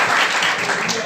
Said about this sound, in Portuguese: Vamos aplaudir o Senhor mais forte,